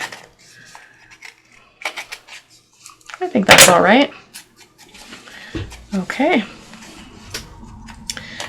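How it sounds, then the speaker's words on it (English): Scissors snip through stiff packaging in a few crisp bursts, close by, between quiet rustling and brief speech. "I might have to use my scissors instead."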